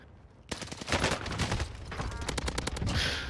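Rapid gunfire from Call of Duty Warzone on Rebirth Island, a dense volley of sharp shots and bursts that starts abruptly and keeps crackling loudly, with a burst of quick individual cracks near the end.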